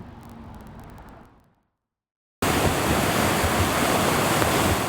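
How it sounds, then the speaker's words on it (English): Swollen Hunlocks Creek along Hillside Road near Shavertown rushes after Tropical Depression Debbie rain, a dense roar of fast water; a softer stretch fades to a brief silence before the loud steady torrent returns. "Here's a look from the creek moving swiftly along Hillside Road near Shavertown."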